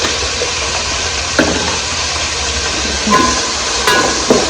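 Onion and tomato sizzling steadily in a pan while a spoon stirs them, with a few clear knocks and scrapes of the utensil against the pan over the constant loud frying hiss.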